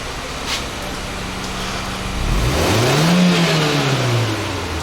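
A Peugeot 406 automatic with an EW10J4 engine idling then revving up, the pitch rising and falling in a smooth sweep, loud and nearby with a steady rumble.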